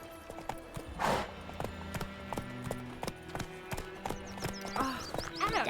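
Rhythmic clip-clop of horse hooves trotting close by in a video game, with a brief neigh near the start and light background music.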